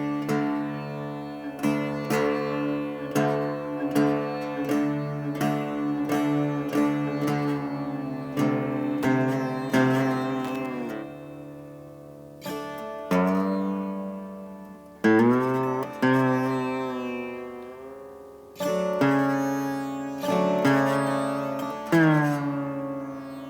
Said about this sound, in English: this is the sound of ancient Indian, North Indian style of raga music.